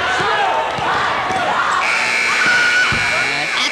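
A long electronic end-of-game buzzer sounds over a loud, noisy crowd at a high school basketball game in an indoor arena, with a sharp bang near the end.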